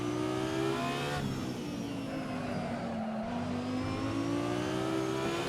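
Race car engines in a racing video game on the Autodromo Lago Maggiore circuit, a steady high whine that shifts pitch as the cars brake and accelerate through corners, close and continuous with no voices.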